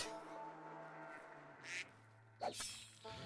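A duck quacks in the colony-simulation video game RimWorld, two or three short, faint calls spaced over a few seconds against a quiet background hum.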